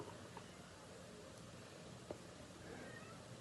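A faint cat meow or two sounds softly against steady background noise, brief and quiet.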